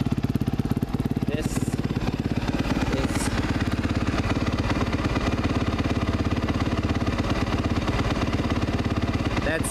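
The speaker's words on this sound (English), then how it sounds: "That was a cold start without the idle up on it, and runs great" A 2016 Suzuki RM-Z 250 dirt bike engine runs after a cold start without the idle up, a close, loud, steady rapid-firing putter that continues unbroken throughout.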